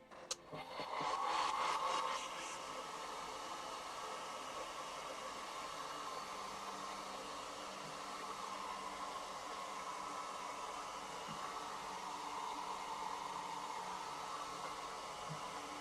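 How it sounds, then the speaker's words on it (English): A hair dryer blows with a steady, airy whoosh, a brief louder burst at the start, then a constant moderate drone throughout. "I'm just going to put the hair dryer"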